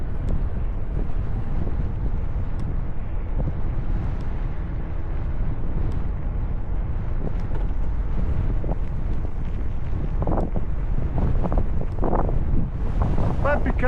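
Steady, loud wind buffeting an Insta360 Ace Pro action camera, helmet-mounted with a foam windscreen and wind reduction on, during a slow park bike ride; a constant roar with a few sharper gusts and rustles near the end.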